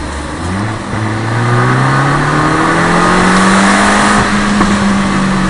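A Fiat Abarth car engine revs hard and accelerates, its loud, rising mid-pitched drone climbing steadily through the gears, close and continuous, with no talk over it.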